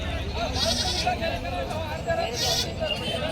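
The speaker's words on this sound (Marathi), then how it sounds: "ही पण गावरान जाती शेळी आहे." A village-breed goat bleats a few times amid a busy crowd at a goat market in Vasmat, Hingoli, with people talking and general babble all around.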